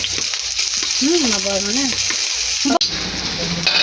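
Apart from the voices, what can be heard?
onions frying in hot oil in a pan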